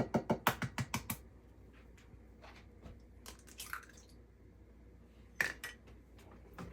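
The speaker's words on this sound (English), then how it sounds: "Now crack 5 large eggs at room temperature into the butter and sugar mixture one at a time." Eggs cracked one at a time into a butter and sugar mixture for an orange key lime pound cake: a quick burst of sharp clicks and taps up front, then a few scattered cracks and a later cluster, close and fairly quiet.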